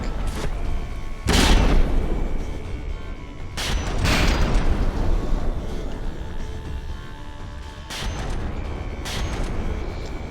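Heavy cannon shots hit a warship's hull in a naval battle video game, Dread Not Nautical Domination: loud deep booms arrive in separate blasts, each followed by a rumbling roar, with no talk.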